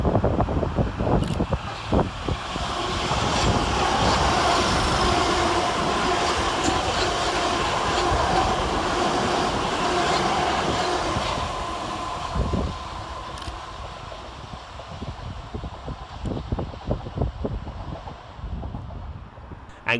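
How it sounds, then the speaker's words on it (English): Gatwick Express class 387 electric trains 387209 and 387214 pass through Three Bridges station with a steady rolling rumble, wheel clatter and wind buffeting the microphone. "Following on his heels for Gatwick Express is 387209 and 387214, working 1 Mike 43 from Brighton to London Victoria."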